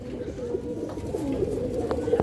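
Large pigeons at a pigeon farm give soft, steady low cooing close by, with faint background noise and brief faint voices.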